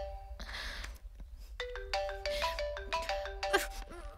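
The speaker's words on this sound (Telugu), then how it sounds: "అన్నా వాళ్ళ అమ్మ దగ్గర నుంచి ఫోన్ అన్నా" A mobile phone ringtone plays as a bright repeating electronic melody, loud and close, with a few short chimes before it settles into the looping tune and no voices over it.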